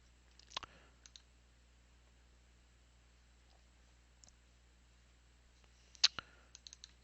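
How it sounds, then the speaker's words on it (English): Faint, close computer mouse clicks, a quick double click near the start and another near the end, each a crisp tick against near silence. "Double click"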